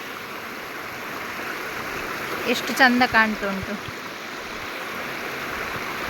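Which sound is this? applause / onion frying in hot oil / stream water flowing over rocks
stream water flowing over rocks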